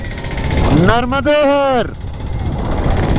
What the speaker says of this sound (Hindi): बाइक क्या परफॉर्म कर रही है भाइयों। RR 310 इतनी लोडेड होने के बाद भी हवा से बातें करती है